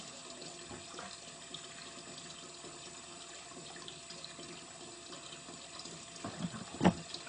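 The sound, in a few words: water filling a bucket from tap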